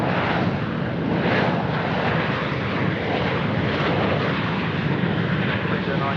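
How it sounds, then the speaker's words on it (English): A Rex airliner just after touchdown at Sydney Airport, a loud, steady broadband roar of engines and rolling wheels filling the whole stretch without letup. "It's our Rex flight that just touched down."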